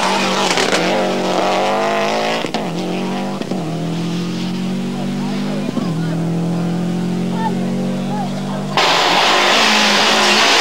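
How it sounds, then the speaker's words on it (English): A Subaru Impreza rally car on a stage at the 1995 Rali Vinho da Madeira, its engine note rising and dropping through gear changes as it passes close and loud, with commentary over it. "Gustavo Trelles there in the second of the ART Run Subaru Imprezas"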